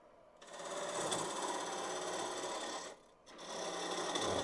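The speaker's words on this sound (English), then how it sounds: "I'm going to do a little bit of that cleaning out with, I think, a spindle gouge here." A spindle gouge cleans out the interior of a segmented wooden box turning on a lathe, giving a steady, dense scraping hiss that holds for several seconds, breaks off briefly, then resumes at the same level.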